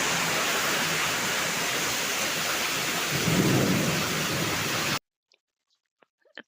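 First monsoon rain in Gujarat, a dense, loud, steady roar of heavy rain with a low rumble of thunder rising midway, cutting off to near silence with a few faint drips.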